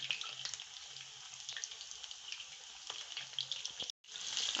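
Large chicken lollipops deep frying in hot oil until crispy, a steady bubbling sizzle with crackles, fairly quiet and uninterrupted apart from a brief cut near the end.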